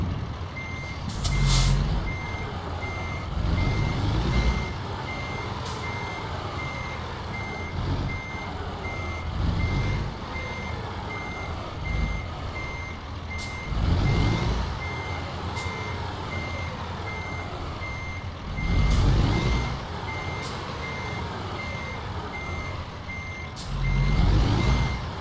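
Repeated reversing beeps from a truck backing a trailer in American Truck Simulator, a steady electronic tone pulsing over a constant engine rumble, with a few louder bursts of engine or air-brake noise along the way.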